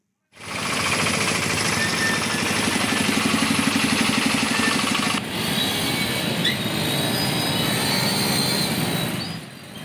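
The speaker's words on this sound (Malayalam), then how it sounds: "ഒരു ട്രെയിൻ പോയി ഗേറ്റ് തുറക്കുന്നതും കാത്തു നിൽക്കുന്നതിനിടെയാണ് മറു ട്രാക്കിൽ ചൂളം വിളിച്ച് വീണ്ടും തീവണ്ടി എത്തുക" A train rumbles past a railway level crossing gate at Engakkad, Vadakkanchery in Thrissur, loud and close, with steady rhythmic wheel clatter, a high metallic squeal and a shift in tone midway as the wagons roll by.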